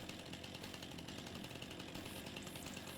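A steady, unbroken chainsaw drone while felling trees in the farming game Farming Simulator 25, a continuous buzzing engine held at an even level for the whole stretch with no voices.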